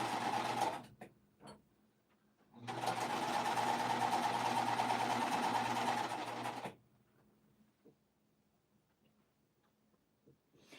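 An oiled older sewing machine stitching quilting pieces runs in one steady, close burst of about four seconds, framed by a few sharp clicks and quiet pauses.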